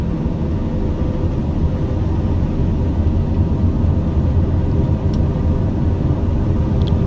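Inside the cabin of a Daher TBM turboprop during its takeoff roll on the runway, the engine at full power produces a loud, steady low roar and rumble that holds constant throughout, with no voices.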